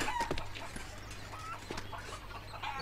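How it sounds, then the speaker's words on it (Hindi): Chickens cluck in a village setting, several short irregular clucks and squawks at moderate distance over a low steady hum, with no talking. "मुर्गियों,"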